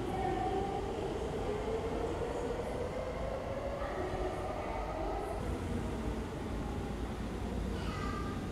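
A Sendai Namboku Line subway train, running at five-minute intervals for the Tohoku Kizuna Festival, rumbles steadily throughout with a low continuous roar and faint higher squeals, close and alone.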